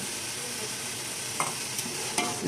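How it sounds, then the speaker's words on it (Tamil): Prawn biryani masala mixed with curd is stirred in a hot pan, giving a steady sizzle with a few sharper scraping strokes close by and no voices. "நல்லா போட்டு நல்லா கிளறி விடுங்க"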